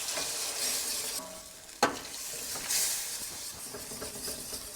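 Milk being stirred into a butter and flour roux for bechamel in a pan, a steady sizzle and hiss with a sharp scrape of the spoon partway through, and no talking.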